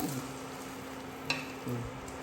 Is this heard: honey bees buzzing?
no